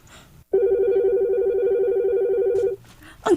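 A telephone rings with a single sustained electronic trill lasting about two seconds, loud and close, with a voice starting just after it stops.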